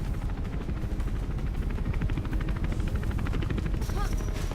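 A bassy helicopter rotor thrum in the video game Mirror's Edge rumbles steadily throughout, mixed with gunfire-like crackle and busy game noise.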